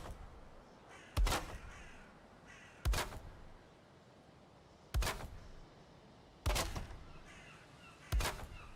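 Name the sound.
crow cawing in the video game Valheim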